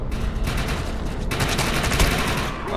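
Sustained rapid gunfire in the video game Defiance rattles loudly and continuously, dense bursts overlapping with no pauses.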